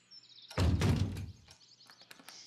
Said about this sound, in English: She slammed the door loudly.